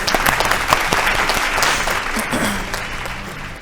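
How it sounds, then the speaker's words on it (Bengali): Loud, dense applause from a studio audience on a Bengali family TV game show, steady claps filling the whole stretch and easing slightly toward the end. "জোরে হাততালি"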